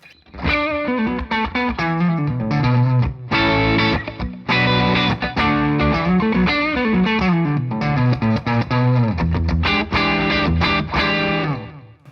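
Warm, thick Gibson Les Paul tone on the neck pickup with light drive, playing choppy chord stabs and riffs with brief pauses, close and fairly loud.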